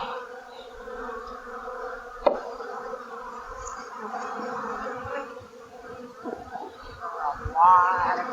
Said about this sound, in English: A lot of bees in this one.